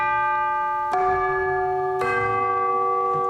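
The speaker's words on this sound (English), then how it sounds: "bells" Orchestral bells from a sampled symphony orchestra library ring out in two clear, sustained strikes about a second apart, each leaving a long bright decay, with no other sounds.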